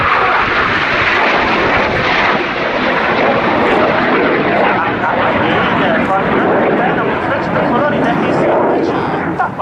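Frecce Tricolori Italian Air Force jets fly an aerobatic display at an airshow, a loud continuous roar of jet engines. A commentator talks over the noise throughout.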